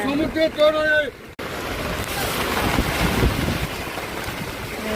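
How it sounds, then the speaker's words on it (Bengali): Rough, storm-whipped sea waves at Puri beach roar as a continuous broadband wash mixed with heavy wind buffeting the microphone, following a brief moment of a voice at the start. "কিরকম ঝড় হচ্ছে সমুদ্রে। প্রচন্ড ঢেউ"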